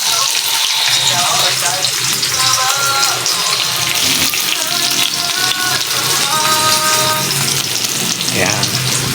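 Onion frying in a pan while mussels are being cooked gives a steady, close sizzle under clattering and stirring noises, with brief snatches of a voice in the background.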